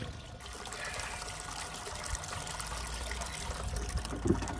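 Water trickling and running gently while a DIY gold sluice mat is brushed out during a cleanup, a faint continuous flow with soft scrubbing, recorded close and quiet without speech.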